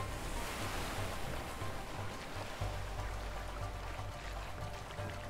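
Rushing waterfall and churning river water in the video game A Way Out, a steady loud roar of water filling the whole moment with no speech over it.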